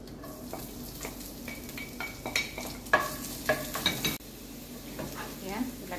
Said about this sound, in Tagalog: Maglagay tayo ng konting mantika para igisa natin yung